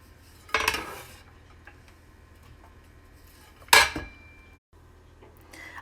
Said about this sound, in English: Shredded cabbage put into the pot.